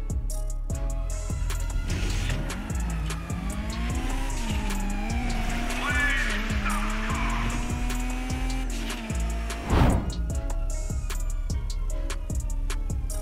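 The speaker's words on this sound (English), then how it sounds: "call your armored Kuduma and head south toward the mountains" An armored Kuruma car drives in GTA 5 Online, its engine droning steadily with rising and falling revs, gear shifts and a brief louder thump partway through, continuous and close, with no talk.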